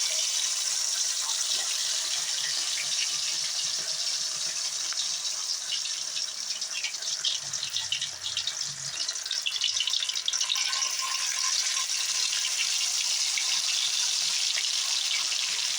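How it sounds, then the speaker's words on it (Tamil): Chicken 65 pieces coated in spiced masala frying in hot oil, a steady loud sizzle and hiss throughout with occasional popping and spattering, no talking. "கறி அப்பப்போ வேகும்போது டப்பு டப்புன்னு சவுண்டு வரும், தெரிக்கும்."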